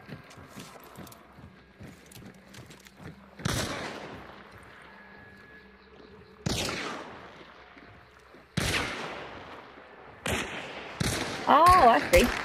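Several separate bursts of gunfire ring out in the video game Hunt: Showdown, each loud against a quiet ambient background. A voice talks faintly between the shots.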